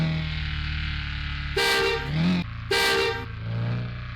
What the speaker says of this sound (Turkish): Yanlışlıkla korna çalıyorum ya.